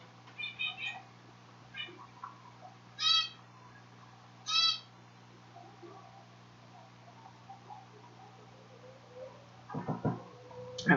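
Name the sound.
Quaker parrot calling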